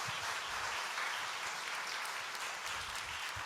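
A church congregation claps together in a sustained, even round of applause welcoming a speaker, a broad hiss of many hands with no talking over it.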